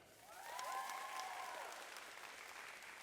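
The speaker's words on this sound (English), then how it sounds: "A big round of applause also for her mother, Alicia Brown, and her sister, Mary Suarez." Applause from an audience, steady and moderately loud, with a faint tonal ring early on that fades as the clapping continues.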